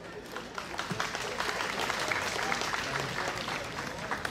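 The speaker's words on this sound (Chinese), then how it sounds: "让我们再次掌声谢谢他们" An audience applauds at the opening ceremony of a university anniversary celebration, following a performance by singers and a music department wind band; the clapping is moderate, even and sustained from start to finish, with no voices.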